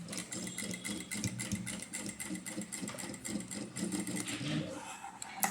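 A domestic sewing machine runs steadily, stitching a piece of household cloth folded into a small pin and needle holder, a continuous close whirring hum with slight fluctuations and no talk.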